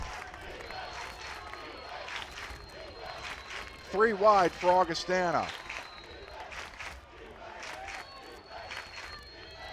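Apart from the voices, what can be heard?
football stadium crowd cheering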